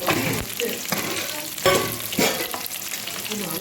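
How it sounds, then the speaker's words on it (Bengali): Fish frying in hot oil, a dense continuous sizzle with crackling bursts and a few louder spits, close by, with no talk. "এখানে আছে গরম গরম মাছ ভাজা হচ্ছে"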